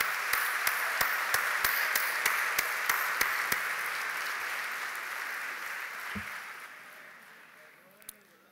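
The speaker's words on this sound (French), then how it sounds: "je pense qu'on peut les applaudir très très fort" Audience applause fills a graduation ceremony at the Grand Rex, steady broadband clapping with a few sharp individual claps early on, slowly thinning and fading toward the end with a faint voice underneath.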